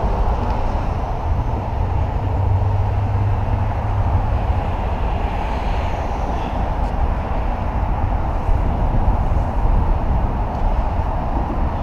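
A 1965 Chevrolet Corvair Corsa with a 180-horsepower turbocharged engine runs with a loud, steady low rumble that stays even and unbroken throughout, with no speech.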